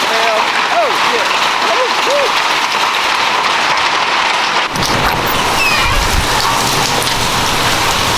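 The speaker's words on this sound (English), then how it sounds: "we got a major hailstorm right now. I would say probably softball size hail" Softball-size hail pelts a roof during a major early-morning hailstorm, a dense, loud, continuous clatter of impacts that stays steady throughout, with a sharper burst of hits partway through.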